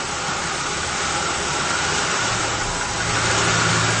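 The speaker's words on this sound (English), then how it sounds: "Notice the change in the engine?" A car engine idles steadily and close by while carb cleaner is sprayed around the injector bases and vacuum line connections to find a vacuum leak, and the idle tone shifts slightly partway through.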